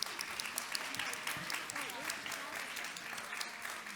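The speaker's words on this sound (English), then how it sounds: "Please keep giving them a round of applause." A panel audience applauds, dense steady clapping from a sizable crowd filling the room for the whole stretch, with murmured voices mixed in underneath.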